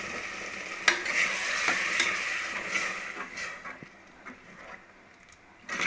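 Cooked lentils are poured into a pan of fenugreek-leaf curry and stirred. There is close scraping and stirring over a soft sizzle, with a few clinks of the spoon against the pan.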